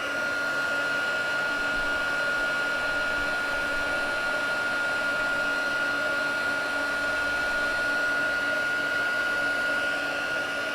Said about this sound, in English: So there's a fair bit of embossing on this one, but just taking my time to heat it up.